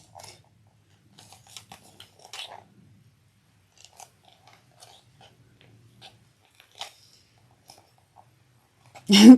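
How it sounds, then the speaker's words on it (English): Scissors cut fabric for a sling pattern, giving sparse, quiet snips and clicks spread across a near-silent stretch, then a louder, close thump at the very end. "These scissors don't want to cut."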